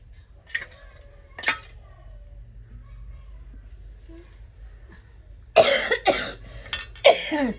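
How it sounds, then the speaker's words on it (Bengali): A person with a cold coughs: two short, isolated coughs early on, a quiet pause, then a louder burst of harsh, close coughing near the end. "ঠান্ডা লেগেছে খুব কাশি হয়েছে"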